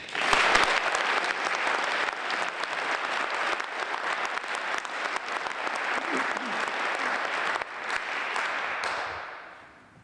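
A large audience applauds steadily for a fallen Vietnam soldier's mother and sister at a Purple Heart highway dedication, a full, even wash of clapping that holds for about nine seconds and then tapers off.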